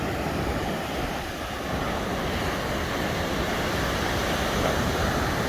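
Surf washes steadily onto an empty beach south of Acapulco, a continuous loud rush of breaking waves mixed with wind buffeting the microphone, with no voices.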